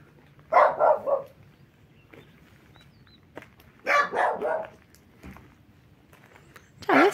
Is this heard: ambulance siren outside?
no